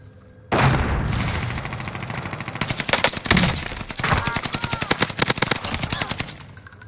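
Rapid automatic gunfire from Call of Duty on Rebirth Island, loud and close, with sustained bursts of quick shots and a few heavier impacts.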